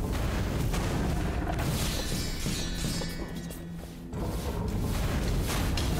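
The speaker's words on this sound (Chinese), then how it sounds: "然后这张地图是连续爆炸" Continuous loud explosions and crashing impacts fill a fight in the roguelike video game Curse of the Dead Gods, dense and unbroken with a brief dip in the middle.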